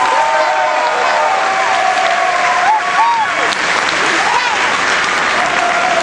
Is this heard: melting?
no